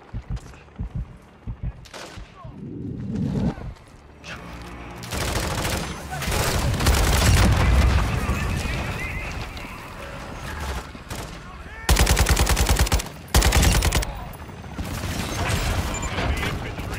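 Call of Duty Warzone DMZ gunfire: sharp bursts and sustained automatic volleys with heavy booms, loud and dense, mixed with in-game effects and a shouting player.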